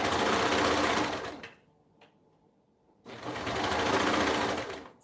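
Sewing machine stitching through a bulky seam of three fabric layers, a loud steady close-up whirring that runs about a second and a half, stops briefly, then resumes at full speed.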